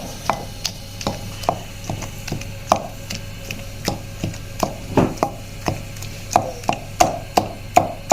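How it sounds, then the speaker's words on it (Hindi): Repeated rhythmic thuds of mustard greens being pounded, a steady series of sharp knocks close by, with no talking. "इतनी देर में हम साग को कूट लेते हैं।"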